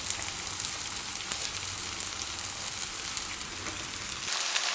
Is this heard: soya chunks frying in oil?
yes